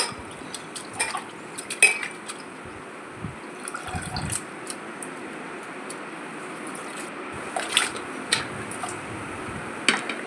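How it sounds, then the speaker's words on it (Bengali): Potatoes and bitter gourd are washed in water in a kitchen, with close splashing and intermittent clinks and knocks of a vessel and utensils, sparse and irregular, with quiet stretches between sounds. "এবার জল দিয়ে ধুয়ে নিচ্ছি।"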